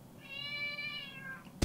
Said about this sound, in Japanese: 猫の声？